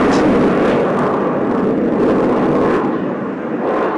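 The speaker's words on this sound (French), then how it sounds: "The Airmacchi is powered by two engines" Alenia Aermacchi M-346 twin-engine jet trainer passes at the Paris Air Show with a loud, continuous jet roar that holds strong and eases slightly toward the end.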